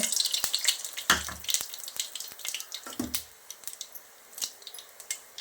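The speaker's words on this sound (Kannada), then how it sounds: "ಸಾಸಿವೆ ಸ್ವಲ್ಪ ಚಟಪಟ ಅಂದ ತಕ್ಷಣ" Mustard seeds sputter in hot coconut oil in a pan, tempering for a jackfruit seed and horse gram bassaru, giving faint scattered pops and crackles with occasional soft clatters, close by.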